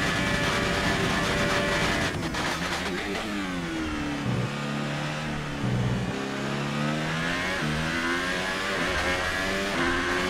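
Formula 1 car engine from the F1 2018 racing game at Suzuka during qualifying, a loud continuous high-revving whine that rises and falls through gear shifts and braking, with no talking.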